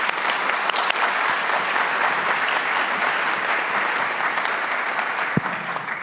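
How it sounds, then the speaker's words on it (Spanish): A room full of people at a closing panel session applauds steadily and loudly for about six seconds, a dense, even wash of clapping with no voices over it. "Un aplauso."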